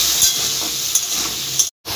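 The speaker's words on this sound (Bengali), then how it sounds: "আর সামান্য হলুদ দিয়ে ভেজে নেব" Small diced potato pieces fry in oil with salt and turmeric, a close steady sizzle with a few stirring scrapes, cutting out abruptly near the end.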